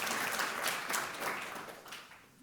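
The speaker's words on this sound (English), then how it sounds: "Give them a bigger round of applause, please." A conference audience gives a round of applause for panelists at a food summit. The clapping is a full, dense wash from the crowd and fades gradually over a couple of seconds.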